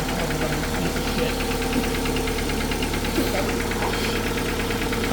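Dodge Neon engine running steadily at idle, with a rhythmic ticking, knocking pulse over a low drone, fairly close and continuous throughout with no talking.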